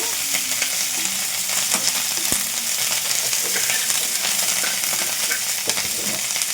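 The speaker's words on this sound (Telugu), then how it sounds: "అటు ఇటు తిప్పుకుంటూ ఇట్లా మనము ఈ ఉల్లిపాయ ముక్కల్ని కాస్త ఫ్రై చేసుకోవాలి" Chopped onion pieces frying with green chillies and curry leaves for a tamarind stew, a steady close sizzle with the scrape and clatter of stirring throughout.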